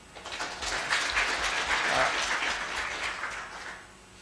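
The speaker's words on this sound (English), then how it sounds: "A big round of applause to Professor" An audience at a conference closing session claps for Professor Gervas Machimu, a dense, even wash of applause that swells and then gradually fades over a few seconds.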